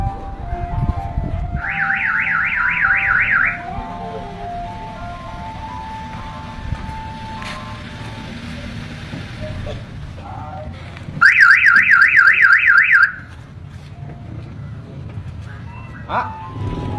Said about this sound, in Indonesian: Nah, mobil teh di sada wae.